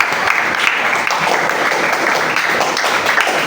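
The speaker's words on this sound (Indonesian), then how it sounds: "Oke, beri tepuk tangan untuk kita." An audience bursts into brisk, dense applause, a steady wash of many hands clapping close and loud throughout, with little else underneath.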